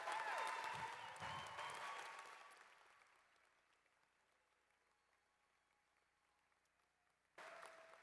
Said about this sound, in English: Let's thank them with a loud round of applause for all their work on their behalf.